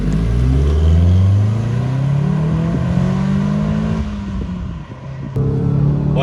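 A Renault Twingo RS engine revving hard while driving, its loud rising drone climbing through the revs, then dropping at a gear change before pulling up again, close and continuous.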